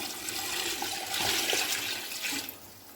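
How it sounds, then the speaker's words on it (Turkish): Hot water pours steadily into a pot of sautéed vegetables, carrots among them, for bone broth: a loud, close, continuous gushing splash lasting a few seconds, with no talking. "Şimdi sıcak suyunu ekliyorum."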